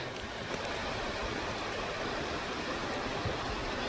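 Water trickling down a narrow rock ledge on a mountain trek, a steady, even rush of flowing water with no breaks, fairly close and alone.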